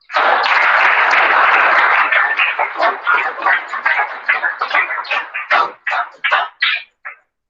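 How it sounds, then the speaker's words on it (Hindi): Classroom applause for a student: a dense burst of clapping that thins into scattered, uneven claps and fades out after several seconds. "अनुपल सिन्हा के लिए ताली फिर से बजाइए"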